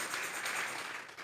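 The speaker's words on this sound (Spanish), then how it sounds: "Vamos a regalarle ofrenda de palmas al Dios de la gloria." A church congregation applauds, a faint dense wash of clapping from many hands filling the space briefly, without talk.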